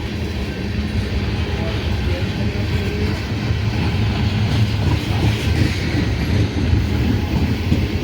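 CSX freight train cars, many of them empty tank cars, roll steadily past close by with a continuous low rumble and rhythmic clickety-clack of wheels over rail joints.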